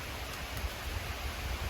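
Light rain sprinkling near outdoor stairs gives a steady, soft hiss of fine drops with occasional faint patters, fairly quiet and without voices.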